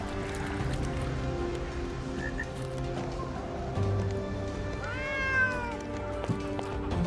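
A cat in the video game Drova lets out a clear meow partway through, with a faint hiss, set against ambient game sounds and soft background music.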